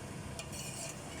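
A pot of carrot and zucchini soup stirred as it boils, with a steady bubbling wash and a soft, brief scrape of the spoon, close up and without talk.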